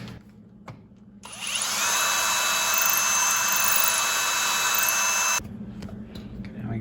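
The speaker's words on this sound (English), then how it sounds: "it's a little drill bit to do the pilot hole" A small power drill bit bores a pilot hole during traditional bow making, whining loudly and steadily for about four seconds before cutting off, with quieter workshop noise before and after.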